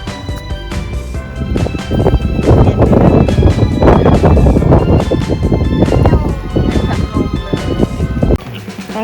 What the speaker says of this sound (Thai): ตรงนี้มีลมแล้ว